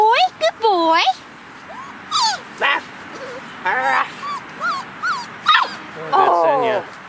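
A puppy whimpers, yips and barks in short, high-pitched bursts, close by and fairly loud, with whiny rising cries separated by brief pauses.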